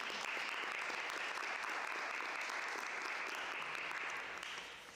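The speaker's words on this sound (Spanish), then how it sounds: "Damos un aplauso, por favor, a nuestros ponentes y conferencistas." Steady applause from a conference audience at an academic dance panel, sustained dense clapping for the speakers that holds evenly and begins to fade in the final second.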